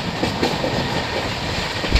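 Falaknuma Express train running at 130 km/h toward Visakhapatnam, heard from on board as a loud continuous rumble with rapid clickety-clack of wheels over rail joints, steady throughout with no talk.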